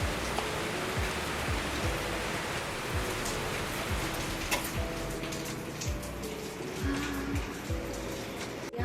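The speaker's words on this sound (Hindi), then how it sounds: "आज देखिए बारिश हो रही है सुबह सुबह।" Morning rain falls in a steady, dense hiss with occasional nearer drips and patters. It stays constant throughout with no voices.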